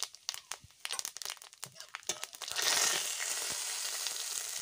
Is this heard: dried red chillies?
yes